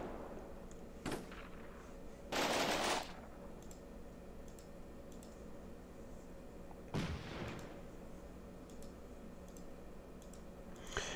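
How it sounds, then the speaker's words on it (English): Artillery fire in the war game Combat Mission Black Sea: a few distant, heavy blasts with rumbling tails, separated by long stretches of quiet background hum and faint clicks, no talk over them. "All we can do is just sit here now and get artillery."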